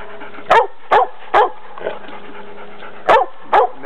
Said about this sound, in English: That barking you hear is Belle.